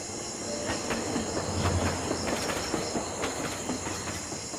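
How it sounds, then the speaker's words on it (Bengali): A train pulls out of a quiet rural station after the guard's whistle, a steady rumbling roll with light clattering and hiss, moderately near and continuous, with no voices. "সে পতাকা নাড়াতেই হুইসেল বাজিয়ে ট্রেনটি ছেড়ে দিল।"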